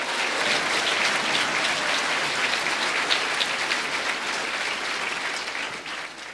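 Loud, dense applause from a church congregation, a continuous wash of clapping hands that fades slightly toward the end, with no voices.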